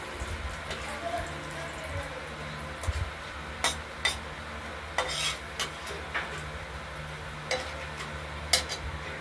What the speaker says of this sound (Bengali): আর জিরে ফোড়ন দেবো, আর সাদা জিরে ফোড়ন দেবো